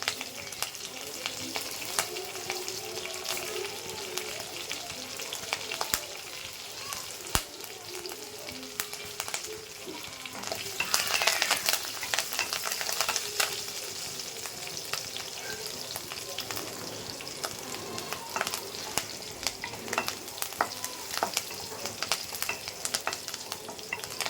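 Onions and curry leaves sauté in a hot pan, a steady soft sizzle with scraping stir strokes running throughout, close and uninterrupted by talk.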